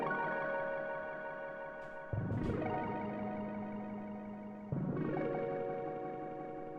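An original music loop plays back as a sustained, effects-laden synth texture with chorus and distortion, its chords swelling and renewing about every two and a half seconds, fairly quiet and with no talk.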